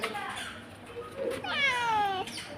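A cat meows close by, giving one short call and then a longer, drawn-out wavering meow, with no talk over it.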